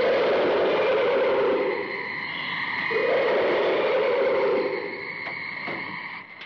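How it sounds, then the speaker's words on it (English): Eerie monster insect calls from the 1957-style creature film The Black Scorpion, a droning, croaking pulse that swells and fades in two long waves with a higher whine above, ending in a few clicks. "More evil insect sounds that we need to decipher."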